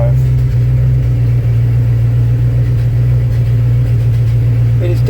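A 1936 Buick engine idles steadily with a constant low, even rumble and a faint tonal hum, close and loud, with no talk throughout.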